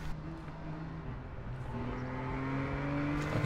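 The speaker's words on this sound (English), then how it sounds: "I can hear cars turning up." Cars in the online game APB Reloaded drive up nearby, a steady engine drone with a rising pitch that builds gradually, without any talk over it.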